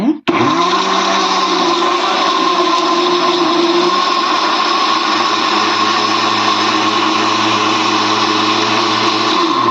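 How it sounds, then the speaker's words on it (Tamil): A blender grinding watermelon for juice runs loudly and steadily from start to finish, its motor whirring with a harsh grinding texture and a slight drop in pitch partway through. "ஃப்ரெஷ்ஷான ஜூஸு நம்ம அரைச்சி எடுத்துக்கலாங்க"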